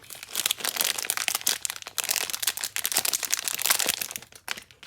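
Plastic and cardboard packaging of a 3-in-1 Apple charger crinkles and crunches as it is opened, a dense run of close, loud rustling and tearing with brief pauses.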